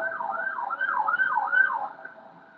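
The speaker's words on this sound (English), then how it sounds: "Sirens." An emergency vehicle siren wails in repeated rising and falling sweeps, heard at moderate distance from inside in Peckham, London, before fading out near the end; no one speaks.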